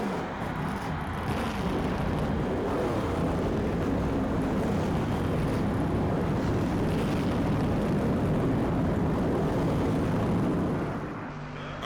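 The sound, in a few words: race car engines starting in NASCAR Thunder 2004 video game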